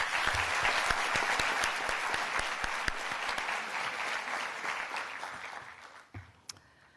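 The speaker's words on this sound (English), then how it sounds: "Please join me in giving all our speakers again another round of applause." A large audience at the Mayor Bowser kickoff of the 2019 Marion S. Barry Summer Youth Employment Program claps for the speakers: loud, dense, sustained applause that thins and fades out near the end.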